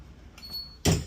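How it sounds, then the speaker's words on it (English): A small school bus passenger entry door swings shut with one loud, close thud near the end, after a faint rattle and a quiet hum of the bus interior. "Close the door."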